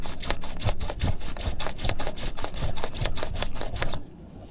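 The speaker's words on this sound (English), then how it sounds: "then we'll ream the inside of the pipe" A hand reamer scrapes burrs from the inside of PVC electrical conduit pipe, a close, steady rhythm of rasping strokes repeating several times a second before stopping abruptly.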